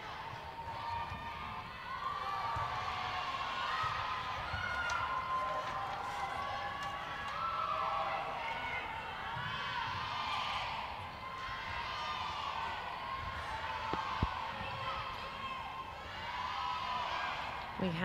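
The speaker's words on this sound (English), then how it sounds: "We have, I hope you can hear, a fantastic crowd in here today." Crowd at a netball match at the Netball World Youth Cup, a steady wash of voices, cheers and whoops filling the hall for the whole stretch, with faint ball bounces and footsteps beneath.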